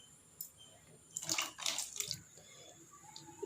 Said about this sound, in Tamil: இதோட கொஞ்சம் தண்ணியும் மிக்ஸ் பண்ணி உள்ளே ஊற்றிடலாம்.